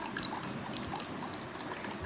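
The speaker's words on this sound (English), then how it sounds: "I will again open the cap, the water will again start flowing" Water runs from a homemade water and cooling dispenser with its cap opened, a close, steady trickling flow with faint splashy drips throughout.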